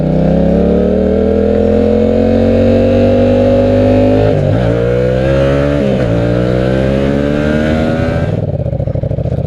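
A Yamaha FZ-07 (MT-07) motorcycle with a modified stock exhaust runs loud and close, revving up and down with a rising, wavering engine note and a deep exhaust rumble, easing off near the end.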